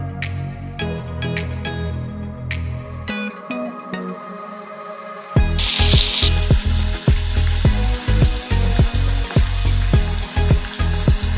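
Potatoes go into hot oil in a pan for a duck curry: after some light clinks and quiet cooking, a loud sizzle bursts in and keeps crackling steadily, broken by repeated sharp scrapes of a utensil.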